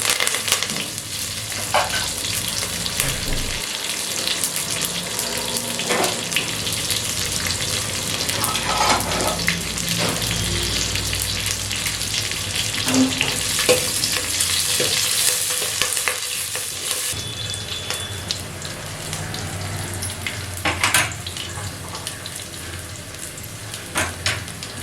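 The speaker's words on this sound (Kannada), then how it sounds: "ಈರುಳ್ಳಿ ಹಾಕ್ತಾ ಇದ್ದೀನಿ." Onions, mustard seeds and curry leaves frying in hot oil for the tempering of Andhra-style gongura dal, a loud continuous sizzle with frequent stirring and scraping in the pan throughout.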